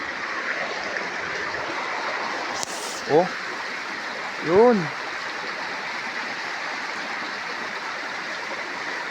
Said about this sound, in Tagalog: Dumadaloy, lumalagaslas pa oh.